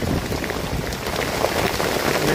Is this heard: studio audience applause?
no